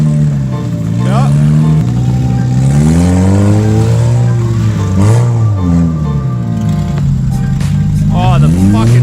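A Chevrolet Cobalt drives on ice, its engine revving up and down in loud, sustained rising and falling sweeps close by, with people talking and whooping over it.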